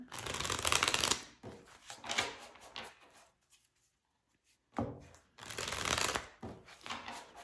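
Tarot cards are shuffled in several bursts of riffling and flicking, with a few seconds of near silence between the rounds.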